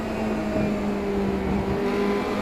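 A Formula Ford 2-litre race car in a racing game at Laguna Seca drones steadily at high revs, a constant buzzing engine tone with a slight pitch wobble, loud and continuous.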